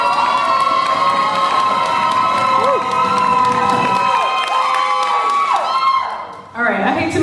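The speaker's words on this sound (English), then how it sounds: "If you are feeling it, please give it up for Zuggie" Loud crowd cheering and whooping for a poet at a women's poetry slam, bright sustained shouts and screams filling the room, tapering off near the end.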